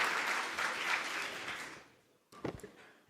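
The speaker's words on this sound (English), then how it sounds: "let's give him that round of applause" An audience applauds to welcome Carol Kamazaka to the stage at a county government keynote forum, a dense sustained clapping that fades out before a brief voice speaks.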